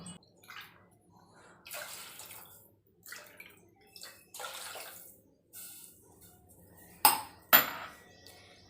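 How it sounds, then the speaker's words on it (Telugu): Water poured into a pan for masala Maggi comes in several short, soft splashing bursts in a quiet kitchen, ending with two sharper clinks of metal. "మొత్తం 4 గ్లాసెస్ వాటర్ వేసుకోవాలి"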